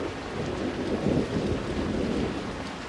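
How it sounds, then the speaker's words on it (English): Heavy rain pours steadily outside during a thunderstorm, a dense, loud hiss with a low rumbling thunder undertone and gusty wind noise, continuous with no voices. "I'm gonna let the rain die down a little bit."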